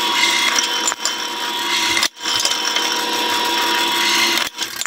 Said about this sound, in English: I'm just drilling a 1/4 inch pilot hole for all the holes